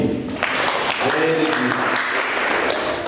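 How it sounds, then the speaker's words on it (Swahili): A church congregation claps together during a sermon on the Ten Commandments, a dense burst of applause mixed with voices that stays steady for a few seconds. "Inua vizuri na ujipigie makofi."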